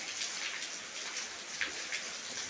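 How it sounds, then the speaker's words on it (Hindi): Onion pakora batter fries in hot oil with a steady, dense hiss and fine crackling bubbles, close and continuous, with no talk. "अभी आपने खोलते हुए तेल में थोड़ा थोड़ा ये प्याज का जो मसाला हमने तैयार किया है इसको हाथ की मदद से, चम्मच की मदद से डालना है"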